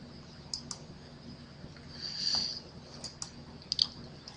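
A computer mouse clicking while someone logs in and posts on a website, with a few faint, sharp isolated clicks spread over quiet room tone.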